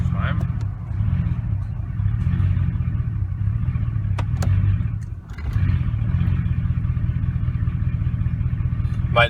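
A 2004–2008 Ford F-150 with a stalling transmission fault, its engine bogging and straining under acceleration, a close, steady low rumble that dips briefly midway before recovering.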